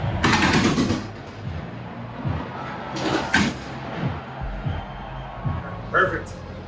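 Stadium pyrotechnics before a college football game fire 28 shots at once from all positions, loud broadband booms and crackling bursts in several clusters echoing across the open venue.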